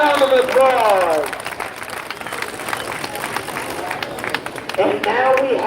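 Crowd applause at a county woodchopping festival in Webster County, moderate and continuous, with an announcer talking over it at the start and again near the end.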